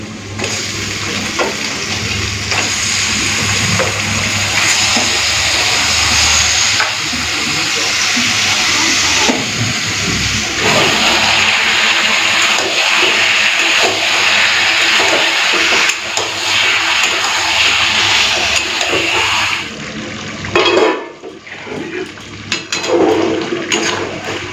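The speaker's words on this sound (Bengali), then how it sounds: "চলুন এখন দিয়ে দিই পেঁয়াজের মধ্যে।" Marinated chicken drops into a pan of fried onions for home-style chicken biryani, setting off a loud, continuous sizzling hiss that lasts about twenty seconds before it suddenly subsides into quieter cooking noises.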